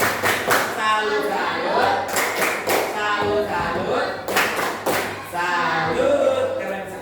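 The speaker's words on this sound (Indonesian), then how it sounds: "Kita beri tepuk salut dulu kepada kelompok 1 dan 2." Schoolchildren in a primary classroom perform a 'tepuk salut' clapping routine, with rhythmic groups of claps and taps ringing out loudly between bursts of children's voices and chanting.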